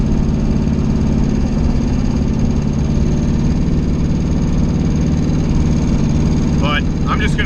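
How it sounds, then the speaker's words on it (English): A Chevstang V8 engine with a known lifter fault idles steadily and close, a constant low rumble running the whole time with a faint metallic clatter riding on it, and a brief higher whine near the end. "this thing clangs like a son of a bitch still. You can hear it probably in the camera. It's just got lifter noise."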